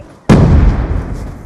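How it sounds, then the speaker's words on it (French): A grenade blast in a first-person shooter's demolition mode, a single sudden loud boom that hits hard and rolls off into a long rumbling decay, standing alone without talk. "Ah, j'ai renvoyé la grenade."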